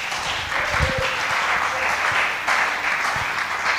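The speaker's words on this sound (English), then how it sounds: "Can you clap for Pastor?" A church congregation applauds for the pastor during a sermon, with sustained dense clapping from many hands that swells slightly partway through, loud and close, with no talk over it.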